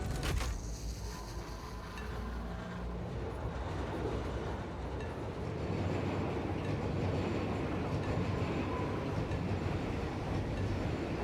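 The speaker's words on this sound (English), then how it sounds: "There's a train on it somewhere." Train rolls past on rails with a heavy, continuous rumble and rhythmic wheel clatter, building slightly louder through the pass with a faint metallic squeal on top.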